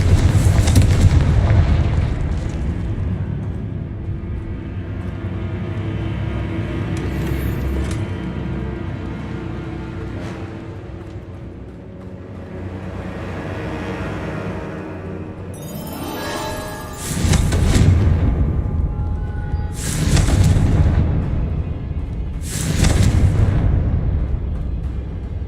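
Repeated Confringo spell blasts in the video game Hogwarts Legacy: a rumbling, booming background gives way to three loud, sharp explosions with crackling debris, spaced a few seconds apart.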